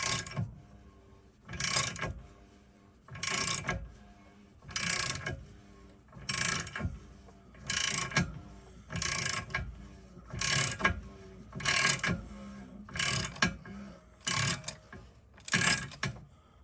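Socket ratchet loosening the oil drain plug under a 2024 Ford Explorer ST, a steady series of about eleven evenly spaced clicking bursts, close and clear with no talk.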